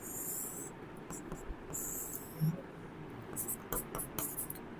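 Chalk or marker writing a tangent's name beneath a circle diagram in a class 10 geometry lesson, giving short scratchy strokes in quick bursts, close and moderate, with faint murmuring in the background.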